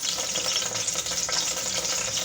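Tomato paste from two medium tomatoes hitting hot mustard oil, producing a bright, continuous hissing sizzle close up, with no speech.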